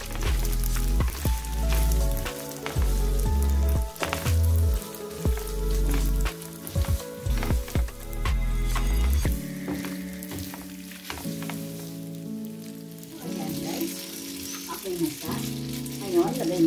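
Pasta sizzles and fries loudly in a pan with garlic for Italian carbonara, with stirring clatter and scraping; the sizzle drops away midway, leaving quieter frying with occasional talk.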